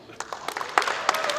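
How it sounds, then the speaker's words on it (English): Applause for award winners at a public sector audit awards ceremony, a thin scattering of claps building slightly over a brief moment, close and moderately loud. "Ladies and gentlemen, a round of applause for guys from Agribank."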